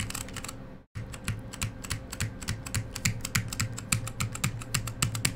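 A mechanical keyboard with Alps brown switches in a Salamander case with a PBT plate is typed on close to the mic, a brief gap and then a quick, steady run of crisp clacky keystrokes.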